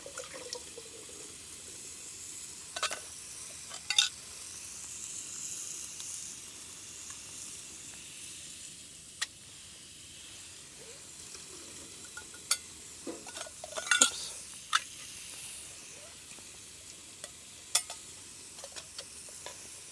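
Canned carrots, corn and green beans heat in a pot with butter at a rooftop-tent campsite, a faint low sizzle broken by occasional clinks of stirring.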